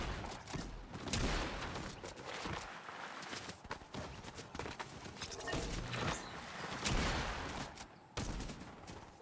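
Repeated sniper and rifle shots from a shooter video game during quick-scope headshot play, sharp cracks in quick bursts with footsteps and mechanical clatter between them.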